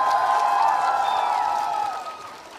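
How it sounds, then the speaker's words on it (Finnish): Applause and cheering from a crowd at a Tubecon 2017 character costume contest as a contestant comes on, dense clapping mixed with tonal whoops, holding steady then fading toward the end. "Annetaan isot aplodit."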